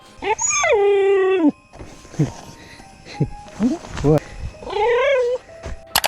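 A dog adopted from the street makes long, wavering, talk-like howling vocalizations up close, two drawn-out yowls with short whines and grunts between them, loud and clear.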